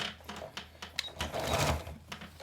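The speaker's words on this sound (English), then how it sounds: "I'm going to just kind of lock it into place real quick with a couple of stitches." A sewing machine with a walking foot puts a few quick locking stitches into a quilt binding, a short burst of close mechanical whirring that starts and stops in uneven spurts, with no talking.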